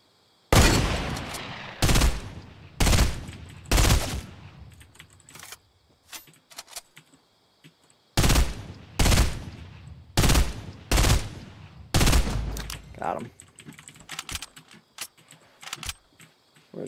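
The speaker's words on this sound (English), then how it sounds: "I've hit 3 people now with this hunting rifle." Hunting rifle fire in a video game, loud sharp shots in two clusters of several closely spaced cracks each with decaying tails, separated by a brief pause, ending in fainter scattered shots.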